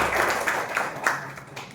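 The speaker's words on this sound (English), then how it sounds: "Toastmaster Jamie with a big round of applause." Scattered applause from a small club meeting audience, a brief burst of a few distinct claps that fades within two seconds.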